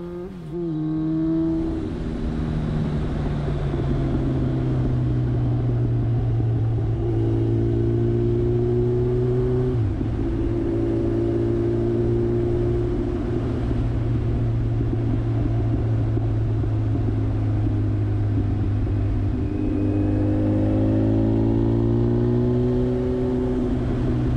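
A motorcycle engine runs while being ridden, a loud steady drone close by with its pitch rising and falling through several gear changes and throttle shifts, and no talk.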